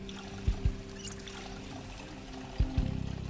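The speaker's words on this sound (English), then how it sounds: "Has running water, too." Tap water running from a faucet inside a trailer in Project Zomboid, a steady soft pouring stream with a few low thumps over it, close and moderately quiet.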